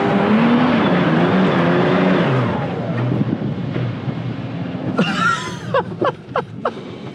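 An off-road vehicle crashes through desert bushes with diff lock on, a loud steady engine drone giving way to scraping, snapping brush sounds in short bursts toward the end.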